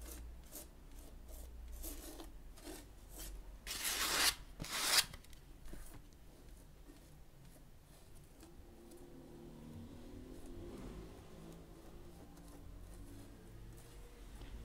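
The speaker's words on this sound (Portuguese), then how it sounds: "é só espalhar com a espátula" Spatula spreading paste over the white section of a decorated beach-themed scrapbook box, giving a soft rasping scrape in repeated short strokes, close and quiet, with two brief louder bursts early on and no talking.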